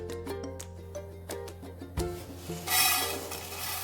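Puffed rice (pori) is heated and stirred in a pan, giving a close, busy rustle of light grains with quick scrapes and small clinks against the metal that swell near the end.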